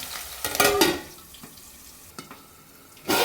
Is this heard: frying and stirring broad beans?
yes